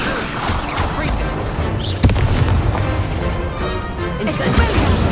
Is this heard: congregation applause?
no